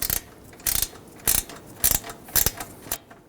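A ratchet snugs down the bolt on an AC condenser fitting on a 2.0L Ford Edge, giving six quick bursts of clicking pawl strokes close up, evenly spaced about half a second apart.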